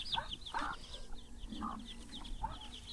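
A mother hen clucks softly nearby in a series of short, spaced, low calls over a faint background, with a few chirpy notes mixed in.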